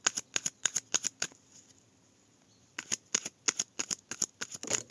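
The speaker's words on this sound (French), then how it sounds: "Allez, on prend quelques cartes." Tarot cards being shuffled and drawn, heard as close, crisp bursts of riffling and flicking in two quick clusters with a short quiet gap between them, no voices.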